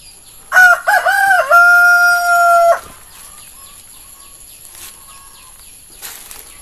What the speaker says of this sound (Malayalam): കോഴികളൊക്കെ ഒന്ന് കാണാം.